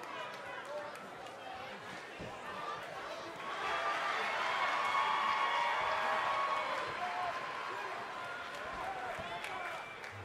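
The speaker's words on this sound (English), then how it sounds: "this stellar crowd reaction they're receiving here" A video game crowd cheers in the WWE 2K20 arena as a sustained roar that swells after the first few seconds and holds at a steady level, with commentators talking over it.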